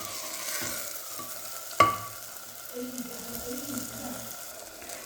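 Chopped tomatoes frying in a pan for a green masala fish dish, with a low sizzle, one sharp utensil clink near the start and soft stirring scrapes, fairly close.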